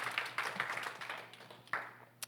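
A congregation at a Sunday church service claps for a young woman who has just been introduced, giving a brief burst of scattered, fairly faint applause that fades within a couple of seconds.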